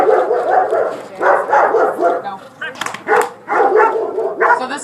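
A working shepherd dog barks steadily and loudly in repeated bursts during a bark-and-hold protection exercise, holding its ground close by with only short gaps between volleys.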